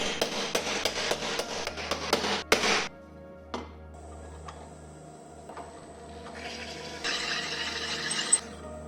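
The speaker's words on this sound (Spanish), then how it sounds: "Situamos la plantilla sobre la plancha de aluminio para marcar y perforar todos los agujeros." Holes are marked and drilled in an aluminium plate through a template: a quick run of sharp metallic taps, then quieter knocks, followed by a thin, rising drill whine near the end.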